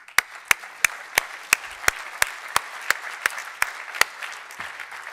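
Sharp, evenly spaced claps at a healthcare lecture, about fifteen crisp hand claps in a steady rhythm, close and distinct over a quiet background rather than a full crowd wash.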